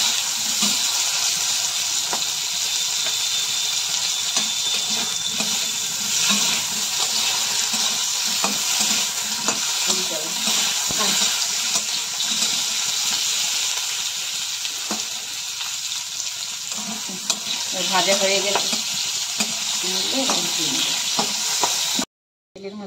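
Hot oil sizzles steadily in a pan as potatoes and carp pieces fry for a Bengali fish curry, a dense continuous crackle with occasional stirring knocks, ending abruptly.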